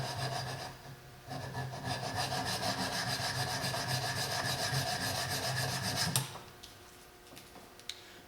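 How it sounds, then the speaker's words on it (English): A hoof knife blade is pressed flat and drawn along a diamond sharpening stick, giving steady, close, continuous rasping strokes for several seconds before stopping abruptly into near quiet. "my diamond stick, press firmly, don't rock up here and put a bevel on it,"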